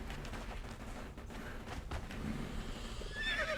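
A horse in the video game Conan Exiles whinnies loudly and nearby over a rough background, with faint hoof clatter mixed in.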